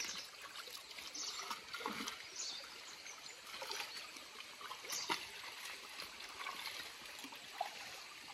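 Water trickling and dribbling through a paddy field in Konkan during rice harvesting, a soft continuous flow with faint splashes, quiet and close, no voices.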